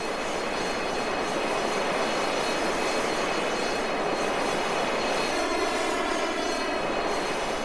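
Continuous roar of a jet airliner engine climbing after takeoff, steady and fairly distant, with a whine rising in pitch near the end.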